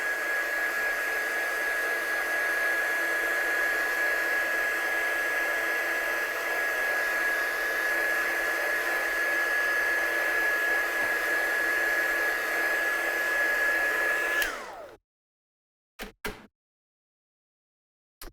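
A heat tool blows hot air to dry watercolour card pieces, a loud, steady high whine that holds for about fifteen seconds, then cuts off abruptly, followed by a couple of brief clicks in near silence.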